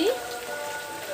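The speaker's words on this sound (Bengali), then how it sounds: "আজকে আমাদের এখানে বৃষ্টি হচ্ছে" Steady rain patters on a surface nearby, a continuous even hiss with no pauses across the short stretch.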